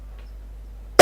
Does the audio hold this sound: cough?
yes